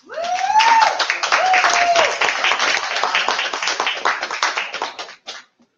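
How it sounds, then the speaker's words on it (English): An audience at a small-business event applauding, dense steady clapping that swells then gradually tapers off, with a brief cheer or voice rising early on. "With a rousing applause, please help me welcome Cornelius Simon of No Limits Consulting"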